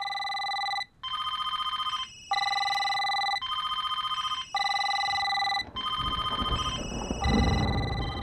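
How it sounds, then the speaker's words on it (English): Telephones ring in a scene from the film Constantine: several loud electronic bell rings in repeated bursts with short gaps, one pattern overlapping another, and a rising rumble of noise beneath the final rings. "when the phones start ringing"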